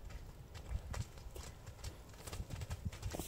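Two horses approach on foot, their hooves clip-clopping in an irregular stream of close, distinct strikes, with faint outdoor background and occasional soft voices.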